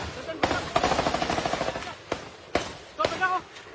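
Gunfire in a shootout between a suspect and police in a residential area of Bilar, Bohol: a rapid burst of close, loud shots followed by a few separate cracks and another short volley, with noisy commotion around.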